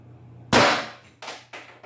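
A Pistelle-68 less-lethal launcher fitted with an 8-inch barrel fires one sharp, loud shot that rings out briefly, followed by two softer clacks as it is handled, with no voices.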